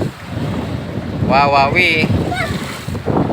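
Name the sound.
strong sea waves and wind at the Batangas coast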